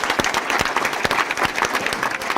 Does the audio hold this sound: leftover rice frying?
no